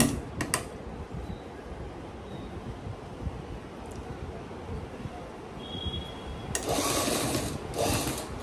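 A sewing machine stitches a Peshwai nauvari saree, running in a steady close whirr for several seconds, with brief clicks at the start and a louder burst of rapid stitching near the end.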